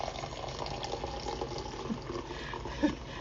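Water poured slowly from a kettle into a Mason jar pour-over coffee filter, a steady soft trickle close by with a faint gurgle near the end.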